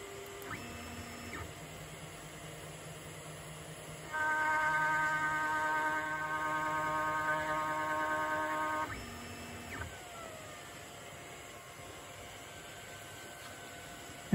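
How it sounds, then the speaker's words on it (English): Rotary carving machine carving a workpiece on a rotary roller setup, a whining motor tone that steps up for about five seconds of steady, fairly loud cutting before winding down, over a constant background hum. "Back at this machine, I'm going to go ahead and carve this one more time."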